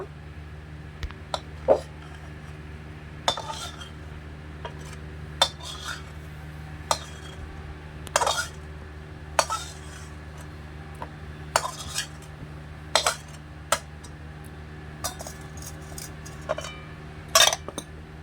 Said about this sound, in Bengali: এবার আমি থালায় ঢেলে নেব।